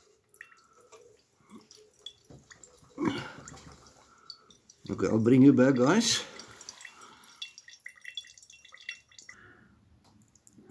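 Fluid drips and trickles from the fuel valve of a Honda 500W generator as it is flushed with vinegar, faint irregular drops around a short louder gush, with someone speaking briefly.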